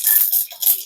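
Mustard seeds pop and splutter in hot oil in a pan while tempering for Kerala pumpkin elissery, a dense burst of sharp crackles that rises and falls in short waves, close and fairly loud, with no talk.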